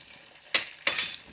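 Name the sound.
cluster beans and potatoes frying in tempering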